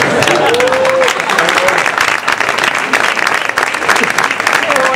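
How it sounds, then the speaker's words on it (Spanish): Audience applause at a live stage show fills the whole stretch, loud, dense and steady, with a few voices calling out above the clapping. "¡Aplaudo, aplaudo, aplaudo!"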